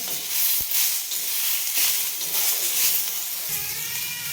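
Sliced tomato and onion sautéing in a pan for a ridge gourd dish produce a soft, uneven hiss with occasional sizzling bursts and light clicks, fairly quiet and close.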